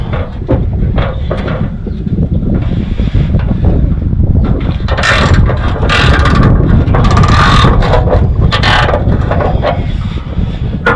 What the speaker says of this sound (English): So now we're going to get this other bolt off.